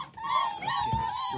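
A six-week-old German Shepherd puppy whimpers and yips in high, wavering cries, close and fairly loud, repeating across the moment.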